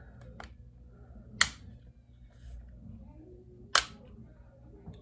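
Trigger of a Tippmann A5 paintball marker with a fang trigger on an E-grip frame, pulled in semi-automatic mode, giving two sharp, isolated clicks a couple of seconds apart over a low background hum.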